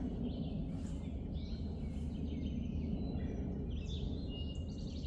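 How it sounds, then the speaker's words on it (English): Birds sing in an early morning garden, with several light chirps and calls sitting faintly above a steady, loud rumble of background noise throughout. "I know you guys hear the birds are just having a field day"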